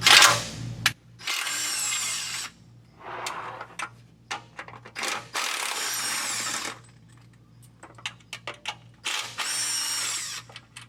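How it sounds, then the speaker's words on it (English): A ratchet runs down 13mm nuts from the transmission studs of a 2022 Ford F-350 with a 10R140 transmission. Several close mechanical whirring bursts are separated by short pauses and scattered clicks, with no one talking. "there's 3 of these studs that are a 13mm head, so we're going to take those down first"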